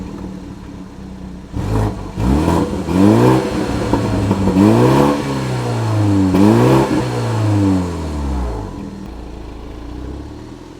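A 2024 BMW 230i Sport's four-cylinder engine pulls hard while driving, climbing in pitch through several gear changes with a steady rising whine, heard from inside and fairly loud.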